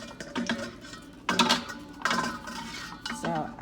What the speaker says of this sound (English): I'm going to stir as I go to make sure it's all coated.